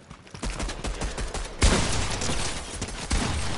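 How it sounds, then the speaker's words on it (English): Rapid bursts of combat SMG fire from a video game, a dense fusillade of close, loud shots that briefly cuts out and then resumes at full intensity. "You know what gun that was? The combat SMG."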